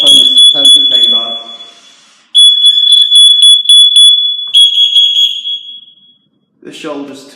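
FireAngel Wi-Safe 2 fire and CO alarm sounding loud and close in a repeating shrill tone with short gaps, with someone talking briefly before it and again after it stops.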